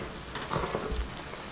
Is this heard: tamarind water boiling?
yes